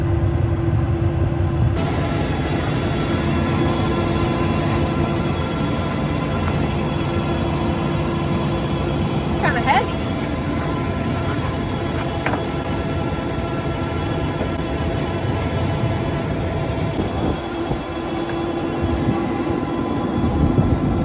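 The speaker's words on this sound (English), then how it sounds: "Laura's just gonna move the skid steer" A skid steer on a farm moves forward to shift a corn head resting on a trailer, its engine droning loud and steady throughout with no voices.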